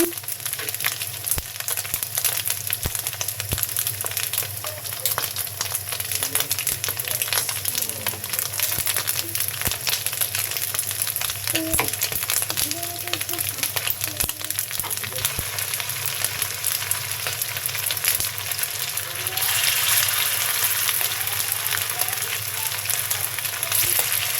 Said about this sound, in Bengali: এখন আমি ডুবো তেলে ভাজি করছি, তুলে নিচ্ছি